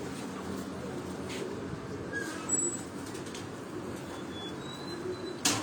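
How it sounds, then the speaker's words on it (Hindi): A pigeon coos from a rooftop pigeon loft in Rawat, with soft, low, repeated calls under faint outdoor background noise and a few brief chirps from other birds. "ये दोस्तों एक कबूतर बासित भाई लाए हैं।"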